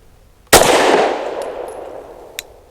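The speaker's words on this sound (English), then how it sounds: "Man, this is loud ammo." A single sharp pistol shot from an Ermox X-fire with loud ammo at an outdoor range, a sudden loud crack with a long ringing decay, followed by a faint metallic ping of a steel target.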